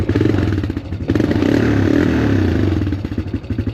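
A Honda Recon ATV engine, started after years sitting in the woods, runs close by with a rough, uneven chugging idle and lumpy pulsing that fluctuates slightly.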